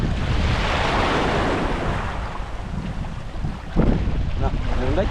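Ocean waves surge and wash continuously close by, with a broad roar thickened by wind buffeting the microphone and a brief swell of louder water near the end.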